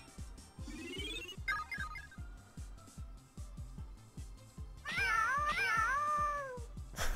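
Meows from a cat character in the PS1 game Kumitate Battle come in two short bursts, a rising electronic chirp and later a longer wavering meow, over a steady rhythmic background music beat.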